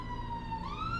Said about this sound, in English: Police car going past.